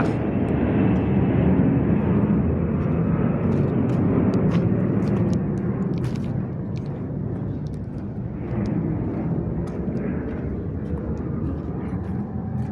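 An airplane passes over the city of Kosice, Slovakia, as a steady, loud low roar that fades a little toward the end, with faint ticking noises scattered on top.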